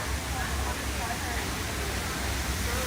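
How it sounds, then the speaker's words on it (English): Steady rushing water from a waterfall along the Kilimanjaro Safaris ride at Animal Kingdom, a broad continuous hiss with low rumble, constant and fairly loud throughout, with no clear voices above it. "The waterfall back in this area is really gorgeous."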